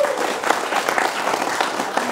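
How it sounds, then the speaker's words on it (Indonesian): Audience at a Malay cultural family gathering breaks into applause, a short burst of clapping with a few distinct claps standing out against the crowd. "tepuk tangan dulu."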